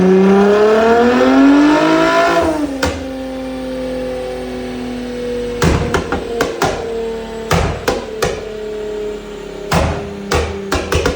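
A Nissan 400Z engine on a dyno revs up loudly for a couple of seconds with rising tone, then settles to a steady idle, overlaid by a series of sharp mechanical clicks and taps.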